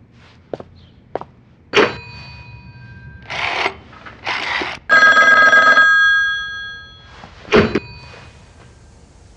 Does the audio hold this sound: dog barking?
no